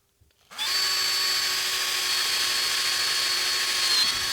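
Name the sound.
drilling a hole in pedal enclosure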